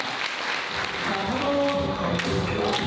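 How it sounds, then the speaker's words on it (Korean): Guests in a hotel wedding hall in Gangnam applaud the bride and groom, a continuous wash of clapping that swells and holds, with faint music and a few taps underneath. "여러분 큰 박수로 부탁드립니다."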